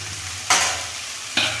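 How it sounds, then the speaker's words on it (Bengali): Cauliflower florets frying in a covered pan over a low flame, a steady soft sizzle under a low hum, broken by two louder bursts of hissing spatter. "তাই ভাজার সময় প্রথম থেকেই লো ফ্লেমে ঢেকে দিয়ে ভাজতে হবে।"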